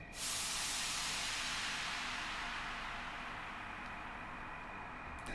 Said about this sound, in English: And a simple white noise.